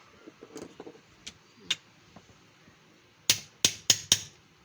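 Sharp metallic hammer strikes drive a bearing into an electric fan part: scattered light taps, then four loud, close blows in quick succession.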